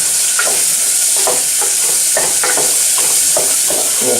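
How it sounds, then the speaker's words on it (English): Onions hit a hot pan for a homemade barbecue sauce, giving a loud, dense, continuous sizzle up close, with rhythmic stirring scrapes breaking through every half second or so. "we want to get our onions in here. Oh yeah, there they go"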